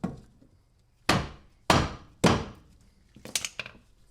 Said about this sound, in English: we can go ahead and hammer that down as well